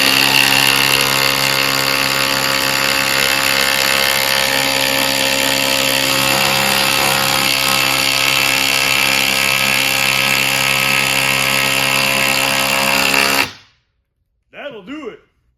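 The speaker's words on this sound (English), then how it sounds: "If you want to be able to drive this 3/8 by 8-inch Spax without a pilot hole," Power drill driving a 3/8 by 8-inch Spax screw without a pilot hole, a loud, close, continuous motor whine under load for about thirteen seconds that stops abruptly, followed by a short voice.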